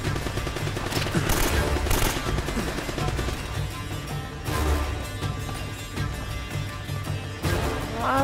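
Sustained automatic gunfire from the video game Uncharted, a dense continuous rattle of shots layered with bursts and in-game effects, loud and unbroken throughout.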